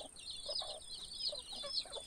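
Chickens shut in their coop in an Arunachal village, waiting to be let out, give a run of soft, repeated clucks and squawks in uneven bursts. The sound is fairly faint and a little distant, with no talking.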